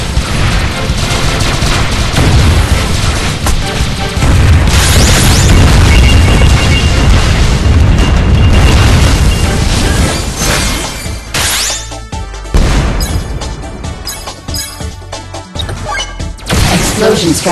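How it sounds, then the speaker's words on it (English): Explosion strike attack in the mobile shooter game WinWing Ultimate Legendary Fusion: a dense, loud, sustained barrage of booms and crashes with rapid blasts, gradually breaking into separate heavy impacts, with brief game voice announcements mixed in. "Explosion strike."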